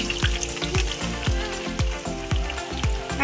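Onions sizzling and frying steadily in hot oil for chicken, with regular stirring scrapes every half second or so; loud, close and continuous, with no voices.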